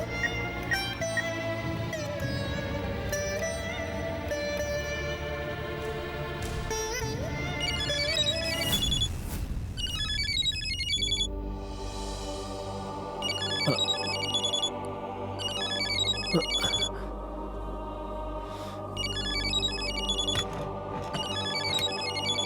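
A phone ringtone chimes in repeated bursts over background music, moderately loud, with no one speaking.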